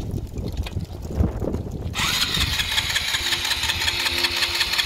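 Honda Grom motorcycle engine after being laid down: cranking and rough noise, then catching about two seconds in and settling into a steady, close idle.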